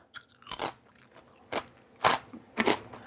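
Four crisp, close crunches of someone biting into thin crackers made from carnivore pasta, spaced unevenly with quiet chewing between them.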